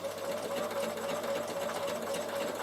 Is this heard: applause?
no